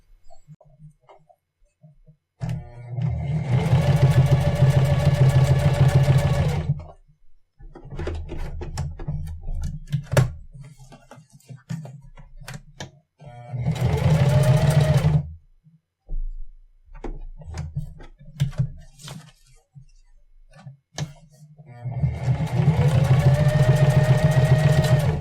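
A sewing machine stitches a Halloween LED bracelet built with LilyPad parts in several separate bursts of a few seconds each, close and buzzing, with quiet handling noises between the runs.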